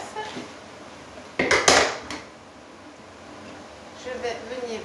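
A utensil mixing egg with milk in a bowl, heard as a short burst of scraping, clinking strokes near the middle, then quieter kitchen background. No talk is heard.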